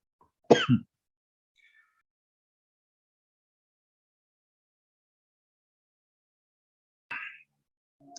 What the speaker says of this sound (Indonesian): hanya batuk-batuk seperti ini